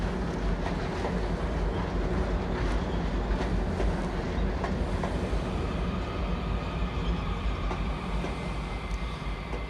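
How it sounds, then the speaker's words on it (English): A train passes close by at a transit press conference, a loud, continuous rumble with rail clatter that fills the whole stretch without easing, and no one speaks. "I'm going to let this train go by here."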